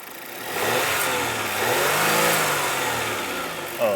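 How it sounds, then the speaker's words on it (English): An Audi Q5 turbo engine revs up and holds high under the open hood, the roar climbing and settling across a few seconds, close and loud and heard alone. "rev up the engine."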